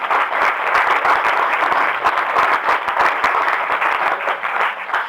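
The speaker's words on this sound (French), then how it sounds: "Merci, on l'applaudit." Steady applause from a small audience at a French gathering, closely packed hand claps holding a constant, fairly loud level throughout.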